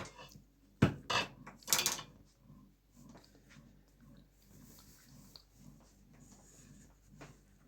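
A few loud metallic clanks of a pot and utensil, then softer scraping and shuffling as cooked pumpkin porridge is spooned from a pressure cooker into a pot.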